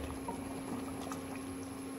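A pot of rajma (kidney beans) boils on a gas stove, giving a constant low bubbling and hissing simmer at moderate volume, with no voices.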